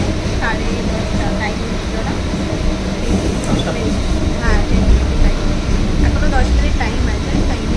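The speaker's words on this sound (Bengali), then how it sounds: "এক্স্যাক্টলি টাইমে ট্রেনটা শিয়ালদাও ঢোকাচ্ছে" A train pulling into Sealdah station, a continuous dense rumble of wheels and carriages with scattered squeals and clatter, steady and close throughout.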